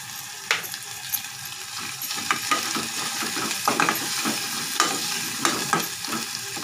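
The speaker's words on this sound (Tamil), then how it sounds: "இது நல்லா வதங்கி தக்காளிலாம் மேஷ் ஆகி வரட்டும்" Tomatoes, ginger, garlic and turmeric sautéing in a pan for dal fry, a steady close sizzle punctuated by repeated scrapes and knocks of a spoon stirring, without talking.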